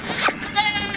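A goat on a small farm that also keeps quail gives a single short, close bleat lasting under a second.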